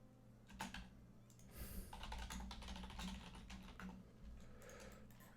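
Typing on a computer keyboard while playing a strategy game, a close, fairly quiet run of rapid key clicks in uneven bursts with brief pauses, no one speaking.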